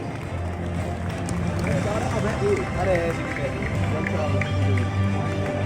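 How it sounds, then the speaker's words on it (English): Audience at a school honours ceremony applauding students, a dense, steady wash of clapping with crowd chatter and voices mixed in throughout. "So let's give a huge round of applause to them"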